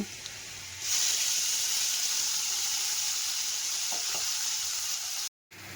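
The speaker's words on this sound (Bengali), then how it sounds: "এখন আমি এটার মধ্যে পেস্ট করে রাখা আমার মশলাগুলোকে দিয়ে দিব" Spice paste hits hot oil with frying fish and bursts into a loud, steady sizzle that holds close and even, with a brief break near the end.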